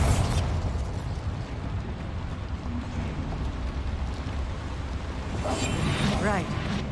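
A Bombarda spell explosion in the video game Hogwarts Legacy, a broad rumbling blast that fills the stretch steadily, with a voice speaking over it and a brighter swell near the end.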